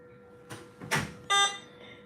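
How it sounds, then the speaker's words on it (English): An electronic device gives out a short series of sharp tonal beeps, the last one longest and loudest, close by in an otherwise quiet room with no speech. "I don't know why this thing beeping."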